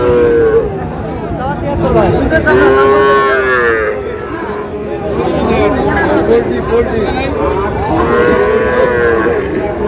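A Sahiwal bull calf moos repeatedly and loudly at a crowded cattle market, several drawn-out calls close by, while people talk and chatter throughout.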